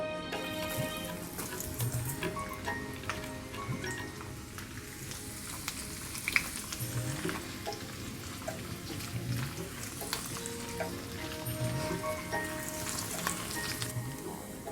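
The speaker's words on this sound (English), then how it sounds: "Now you want a very light fry till it turns golden" Thinly sliced shallots coated in cornstarch fry lightly in oil, a steady close sizzle with faint crackles and occasional stirring clinks running throughout without talk.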